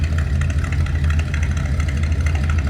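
A deep, lumpy engine idle from a 1956 Ford Crown Victoria rumbles steadily up close, an old-style V8 hot rod burbling with a slightly uneven throb and no voices.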